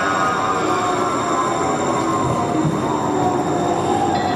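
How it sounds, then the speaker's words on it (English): A Red Line light rail train heading for City Center rumbles past at close range, a loud, steady roar of wheels on track with a high metallic squeal held throughout. "we have a Red Line train headed for City Center and eventually the Beaverton"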